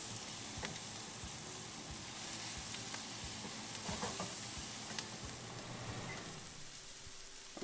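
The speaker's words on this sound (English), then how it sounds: "So the large onion that I cut up will go into that pan on high heat." Chopped large onion cooking in a pan on high heat gives a soft, steady sizzle with occasional faint clicks and stirring, quiet and continuous with no talking.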